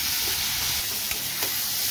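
Cabbage, capsicum, tomato and onion sizzle in a pan with light salt and turmeric. A dense, steady frying hiss is heard close up, with a couple of faint stirring touches and no talking.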